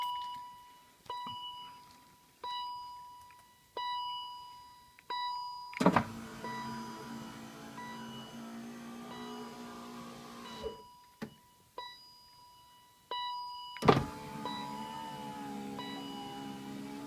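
On a BMW 528i E39 with the driver's door panel removed, a repeated electronic beep sounds several times, then the repaired electric window motor whirs through two longer runs, each ending in a thud.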